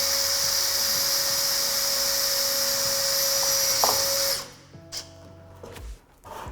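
A power screwdriver whirs steadily at high pitch while driving screws into drywall studs during stud-wall framing, then cuts off and leaves a few short clicks and handling knocks.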